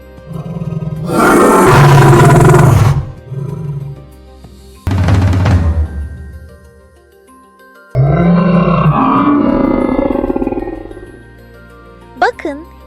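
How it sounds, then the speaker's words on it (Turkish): A T-Rex roar sound effect in a children's dinosaur story: three loud, deep, drawn-out roars separated by short pauses, followed by a brief high squeal near the end. "Avını yakalamak için kükreyerek koştuğunu düşünsene. Kükür sesi tüm ormanda yankılanırdı."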